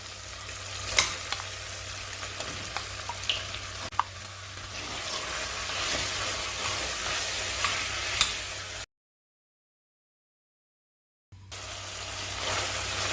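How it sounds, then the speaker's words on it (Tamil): Mutton bones sautéing with onion and tomato in a pan make a steady, close sizzle with scraping stirs, broken by a few seconds of silence before the frying resumes. "வெங்காயம் வதங்கினதும் தக்காளி சேர்த்துடலாம் எலும்பை சேர்த்து வதக்கிடலாம்"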